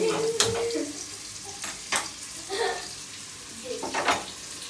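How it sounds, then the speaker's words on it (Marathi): Onion fries in a pan on a gas stove, giving a close, soft sizzle with a few stirring and scraping strokes, and no clear speech over it. "आता मग हां कांदा भाजून घेतलं मी"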